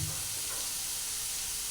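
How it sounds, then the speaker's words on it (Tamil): Chopped onion and tomato sauté in hot oil with salt in a pan, giving a steady close sizzle with a soft hiss throughout and a brief stir at the start, no voices over it. "எண்ணெயோடு 3த்தையும் சேர்த்து நல்லா வதக்கணும்."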